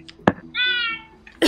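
A cat in a GTA roleplay game gives one drawn-out meow, close and clear, between short bursts of other noise at the start and end.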